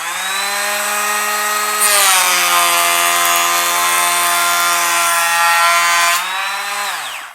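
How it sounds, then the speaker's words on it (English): Bosch GHO 12V cordless planer cutting oak at about 1.5 mm depth, a loud close steady whine that rises in pitch as the blade bites, holds for several seconds, then spins down. "You can just about start to hear the planer struggling a little bit more."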